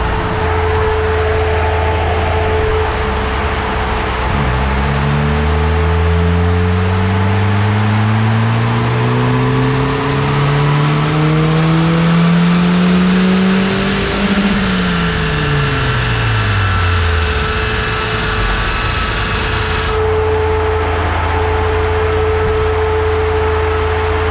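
A BMW 316i turbo engine revs during a power test, a loud, close drone whose pitch climbs steadily for several seconds before dropping sharply back to idle, then holding a steady hum.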